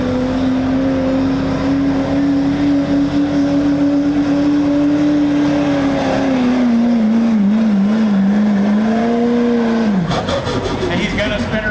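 A pickup truck at a truck pull revs hard with its wheels spinning, a loud sustained engine roar that climbs and wavers, then drops away near the end. A crowd and an announcer are heard beneath it.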